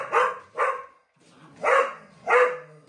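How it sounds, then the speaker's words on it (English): A dog barks at a puppy during rough play, four loud close barks in two pairs with a short gap between them, alone without talk. "then Jack reacts, so he barks at Nori"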